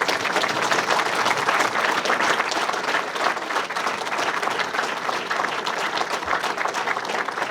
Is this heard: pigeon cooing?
no